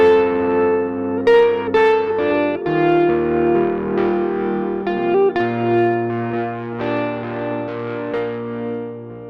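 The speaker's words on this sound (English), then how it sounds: "we'll be adding some tremolo to our fuzz here as well" A heavily fuzzed electric guitar plays sustained, buzzing notes and chords, thick and saturated, with tremolo giving a slightly wavering, pulsing quality to the tone.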